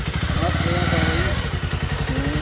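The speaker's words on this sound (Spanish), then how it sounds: "Presumiendo la moto, mira." A motorcycle engine revs loudly nearby, its pitch rising and falling, while people talk over the rumble.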